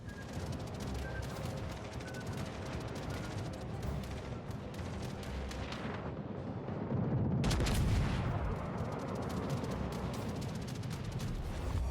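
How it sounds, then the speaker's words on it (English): A warship destroyer is blown up by naval gunfire in the World of Warships: Legends video game, with dense rumbling battle noise throughout and a heavier explosive surge partway through. "Enemy destroyer blown up."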